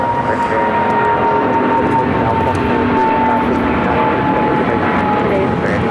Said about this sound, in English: This is United Airlines 1396 taking off to Newark on the 777-200